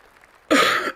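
One single harsh, loud cough bursts out close to the microphone after a quiet moment and then breaks off sharply.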